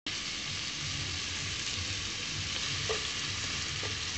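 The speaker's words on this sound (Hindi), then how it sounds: "हल्दी तो थोड़ा सा इसी मसाले में हम भूनेंगे इसे" Vegetables fry with turmeric and salt in spice masala, a steady close sizzle with occasional stirring scrapes and clinks against the pan, continuous and moderately loud, no voices.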